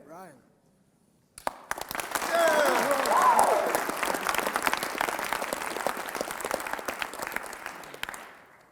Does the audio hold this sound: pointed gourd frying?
no